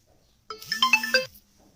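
A mobile phone ringtone goes off during a Facebook live broadcast: one short melodic burst of bright chiming tones, moderately loud and close, with no talking over it.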